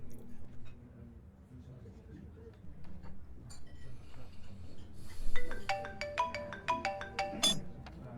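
A phone's ringtone chimes in a quick repeating melody near the end, over clinking dishes and people talking during a meal.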